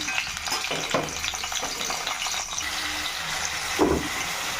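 Four green chillies frying in curry oil in a pan give a quiet, uneven sizzle close by, with a few soft stirring scrapes and a brief louder crackle near the end.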